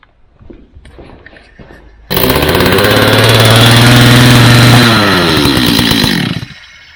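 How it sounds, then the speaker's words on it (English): A STIHL 025 chainsaw engine, bar removed, roars to life after a few quiet handling noises, runs loud and steady for several seconds, then cuts off abruptly. "I'm going to start the chainsaw without the bar on it"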